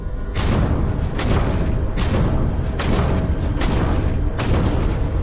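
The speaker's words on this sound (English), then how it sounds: "So you can fire 6 barrages of missiles before it runs out" Missile barrages fired from a player-built ship in Starfield, six heavy booming launches in a steady rhythm about once a second, each a loud broadband thump over a continuous rumbling wash of engine and combat noise.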